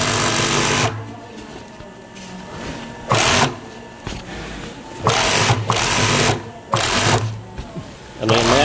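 Industrial four-needle sewing machine stitching garter runs loud and close in bursts, its rapid mechanical whir starting and stopping several times with short pauses between runs.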